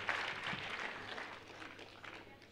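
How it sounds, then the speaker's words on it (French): An audience at a conference opening claps steadily, a faint wash of applause that fades slightly over a couple of seconds with some room noise. "on peut les applaudir, tous les deux"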